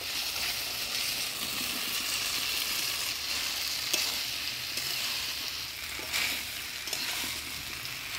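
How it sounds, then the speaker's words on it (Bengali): Jackfruit and boiled potato stirred into spice paste in a pan, a steady close sizzle and fry with soft scraping and stirring throughout, no talk. "কাঁঠাল আলুটা আমি মশলার সাথে ভালোভাবে নাড়াচাড়া করে নিলাম"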